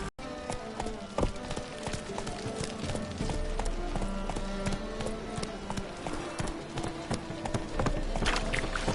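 Horse hooves clip-clop at a steady trot in The Witcher video game. The dense, continuous hoofbeats sit over a busy game soundscape and run the whole time without pause.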